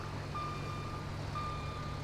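Truck reverse alarm in GTA 5 beeping while the truck backs up, two long steady tones about a second apart over a constant low engine idle, moderately close with no talk.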